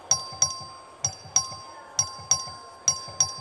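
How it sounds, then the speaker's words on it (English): In the Texas House chamber, a bell rings in a quick, regular series of bright metallic strikes that signals members to vote, with each strike ringing out clearly and decaying briefly before the next, and no voices over it. "The clerk will ring the bell."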